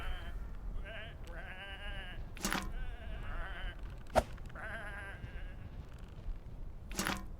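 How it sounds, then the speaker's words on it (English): Sheep bleat repeatedly in a video game, several wavering calls one after another, close and fairly clear over a low background hum. "Come on, these are just sheep."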